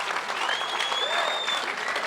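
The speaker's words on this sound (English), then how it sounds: "we gotta give Andrew a round of applause because he stood his ground" Applause at a post-event press conference for an EFC 54 fight: steady clapping from a small room of people, with faint high whistles or feedback tones drifting over the clapping.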